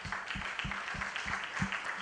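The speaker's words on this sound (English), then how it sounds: "Please, let's clap for her, please." An audience at a business exhibition youth session gives a short round of applause, with distinct claps repeating in an even rhythm and a soft crowd wash underneath.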